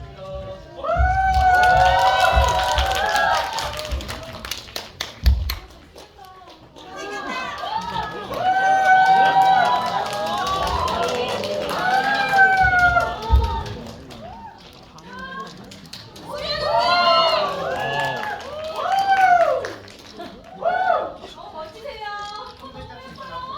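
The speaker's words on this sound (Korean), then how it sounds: "나오실 때 큰 박수 부탁드리겠습니다" A cinema audience at a screening of the film A Normal Family cheers as the actors and director come out, with loud, high-pitched shrieks and excited shouting rising in three waves, briefly dipping between bursts.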